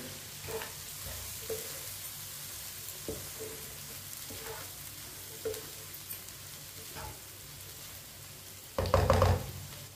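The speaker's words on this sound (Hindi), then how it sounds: "सब्ज़ धनिया को मिक्स कर लेंगे।" Potato and egg curry with fresh coriander is stirred in a pan after the heat is switched off. A faint sizzle holds steady under soft, periodic spoon scrapes and knocks, followed by a louder clatter near the end.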